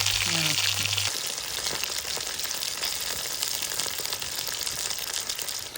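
Sardines frying in hot oil with curry leaves, a dense continuous sizzle and crackle held close throughout, with a brief tonal beep at the very start.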